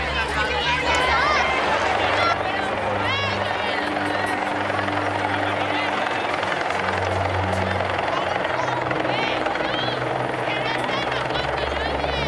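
Helicopter rotor thumping steadily during an emergency services training day in Alcoi, loud and continuous with a crowd murmuring and voices talking over the engine noise.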